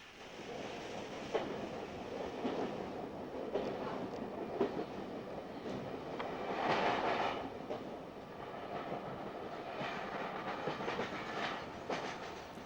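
A DMU train crosses the River Wear near Brockley Winds, a steady rumble with faint rhythmic clickety-clack of wheels on rail joints, continuous and moderately distant throughout.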